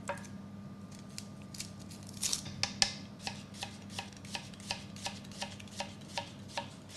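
A knife chops an onion on a cutting board in steady, evenly spaced taps, close and crisp, with a faint low hum behind.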